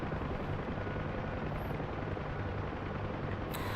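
A UH-1H helicopter's rotor in a flight simulator game beats with a constant, heavy throbbing drone, loud and close throughout, with a brief faint whine near the end.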